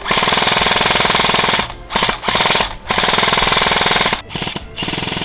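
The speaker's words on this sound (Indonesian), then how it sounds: "Kontak senjata akhirnya tak terelakkan." Airsoft guns firing in a team skirmish, heard as loud, rapid sustained bursts of automatic fire broken by a few short pauses, close and continuous.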